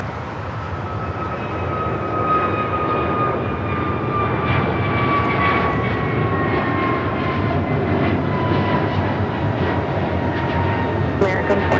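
A jet airliner takes off from runway 25 Left at LAX with a loud, steady roar of engines, whining tones drifting slightly, sustained throughout at close range.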